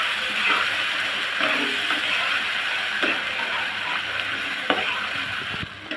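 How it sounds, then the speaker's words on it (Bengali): A blended spice paste fries in hot oil with a continuous bright sizzle, close and steady, broken by occasional clicks and scrapes of a spoon stirring the pan. "মশলাটা তেলের সাথে ভালো করে ভেজে নেব।"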